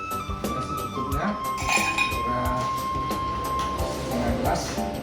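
Ice cubes clink into a glass while an iced milk coffee is prepared at a barista training session, a series of bright chinks and knocks running under a voice that talks throughout.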